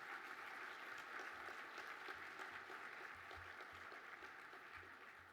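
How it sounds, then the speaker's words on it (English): Audience applause at the 2022 USC Viterbi Awards ceremony, a soft, steady wash of many hands clapping that sounds distant and faint, holding evenly throughout. "Please give them all a nice round of applause."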